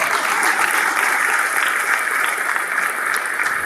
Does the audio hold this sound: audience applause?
yes